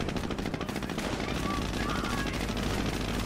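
Machine gun fire in the Company of Heroes American campaign rattles without pause, with dense rapid bursts layered over battlefield rumble, fairly faint but constant.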